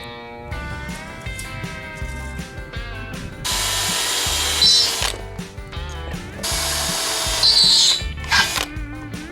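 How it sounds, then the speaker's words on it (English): A power drill whines loudly through a steel tractor roll bar in two long sustained runs, with short start-and-stop bursts and a high squeal as the bit bites. "I'm going to drill both sides separately"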